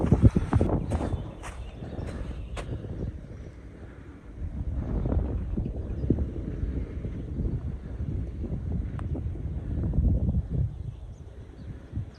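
Steady wind rushing and buffeting on a golf course at Evian, loud and continuous with low rumbling gusts that swell and fade over several seconds.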